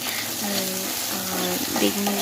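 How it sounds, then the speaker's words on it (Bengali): Eggplant slices frying in a pan with salt and turmeric, a steady close crackling sizzle of hot oil running throughout with a few stirring scrapes and no talk. "এরপর আমি বেগুনটা ধুয়ে ভাজা বসিয়ে দিলাম"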